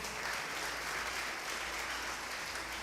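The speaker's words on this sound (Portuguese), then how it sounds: "Você pode aplaudir o Senhor?" Church congregation applauding during a Sunday service, a dense steady wash of many hands clapping at a moderate distance, continuous throughout.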